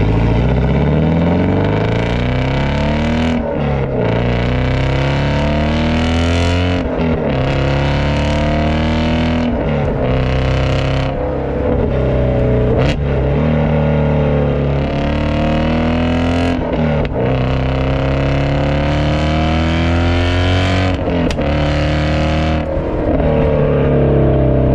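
A Shelby GT350 Mustang engine roars loudly and continuously during a test drive, repeatedly climbing through revs and dropping back between gear changes, close and dominant with no talking.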